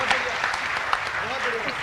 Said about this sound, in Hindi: अब आप पे निर्भर करता है कि आप कितनी तालियां बजा के माँ भारती